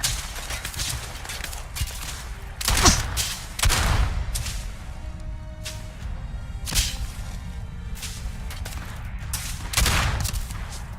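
Rapid pistol gunfire and turret shots in the sci-fi game Starfield crack out in sharp bursts, with louder clustered volleys around the middle and scattered single shots throughout, dense and close.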